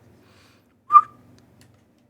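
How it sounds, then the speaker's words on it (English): A person whistles a single short, bright note, alone in an otherwise quiet moment. "Okay, don't whistle. That actually sounds horrible."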